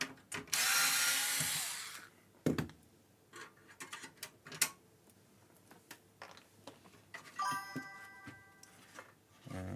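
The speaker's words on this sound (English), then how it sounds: "Just remove every screw you see, and things lift out." Screws being removed from a PlayStation 1 console, heard as a burst of whirring from a small driver followed by scattered small clicks, ticks and plastic taps up close, with a brief rattling whir near the end.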